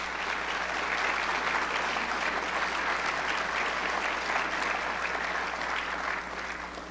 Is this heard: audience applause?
yes